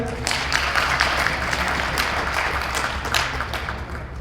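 Applause from an audience at an on-site safety motivation program as an award nominee is called up, steady clapping filling the whole stretch without a break.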